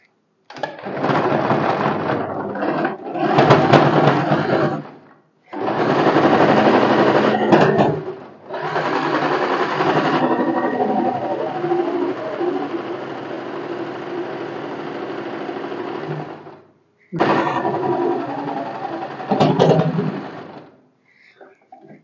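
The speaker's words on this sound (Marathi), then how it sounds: "एक दाबाच्या अंतराने अजून एक शिलाई मारायची. अशा 2 शिलाई मारून घ्यायच्या." Sewing machine stitching piping onto a blouse, running in several long motor bursts separated by short pauses, close and steady whirring with no speech.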